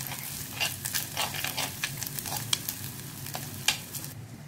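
Slit green chillies and curry leaves sizzle in hot oil in a pan for prawn roast, a close steady crackle with sharp pops and stirring scrapes throughout, no voices.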